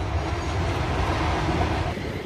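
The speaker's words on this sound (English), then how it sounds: "And there goes the end of that train." A freight train rolls past at a rail park, giving a continuous heavy rumble of railcars on the track that fades slightly at the end, with no voices.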